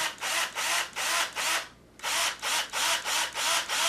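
An electric drill whirs in a steady series of short, loud bursts, briefly pausing once before the rhythmic pulsing resumes.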